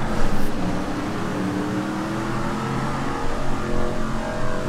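A luxury car engine revving in GTA 5, driven fast at 100-150 on narrow roads with a steering wheel, a continuous loud engine drone with rising and falling pitch and no talking.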